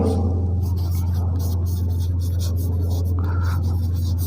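A pen scratches out a physics equation on paper, soft rapid strokes close by over a steady low electrical hum.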